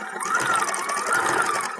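A sewing machine zigzags back and forth, stitching fringe onto a dance skirt, producing a loud, close, continuous whirring hum with slight pitch swells over under two seconds.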